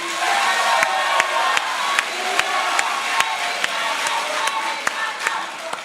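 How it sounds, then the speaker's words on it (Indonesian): Audience at a Tomohon mayoral candidates' public debate clapping and cheering for a candidate pair, a moderate crowd roar with scattered sharp claps standing out over the steady noise. "Boleh tepuk tangan untuk paslon nomor urut 2."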